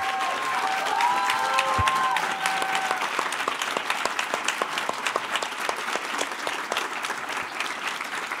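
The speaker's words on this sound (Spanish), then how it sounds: "un fuerte aplauso para las dos, por favor" Audience at a university event applauds steadily and loudly throughout, a dense run of clapping with no one speaking over it.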